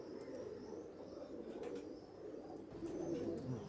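Soft pigeon coos murmur in the background, low and repetitive, with faint ambient noise and no voices.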